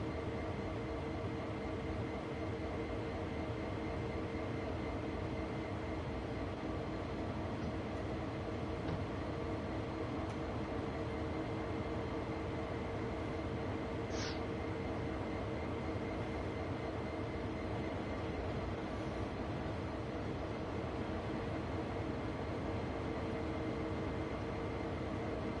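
Train locomotives run in Train Sim World 2, one loco leading two more behind it. They produce a steady, continuous rumble and engine drone with no break, and one brief higher squeal or whistle sounds midway.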